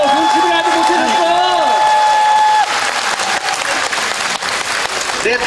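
A voice carries a drawn-out tonal line, then dense crowd applause erupts and sustains loudly at an outdoor tightrope-walking show during the 2024 Anseong Baudeogi festival.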